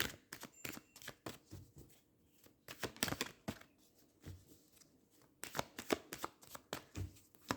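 Tarot cards are shuffled by hand in several quick riffling bursts, crisp papery flutters separated by brief quiet gaps, close and moderately soft, with no speech.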